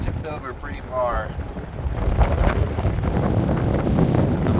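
Wind blowing steadily across a heeling Catalina 22 sailboat on a windy day in Padilla Bay, a loud rushing buffet against the microphone with water noise beneath and brief voices early on.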